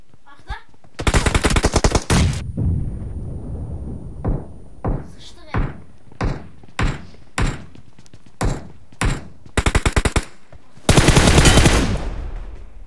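Bursts of gunfire in a PUBG Mobile duo-versus-squad match: long rapid automatic volleys open and close the sequence, with a steady run of single sharp shots between them, loud and close, while players talk over the action.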